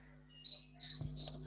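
A bird chirps nearby in three short, high tweets spaced evenly over a steady low hum, heard faintly in the background of an online chemistry class.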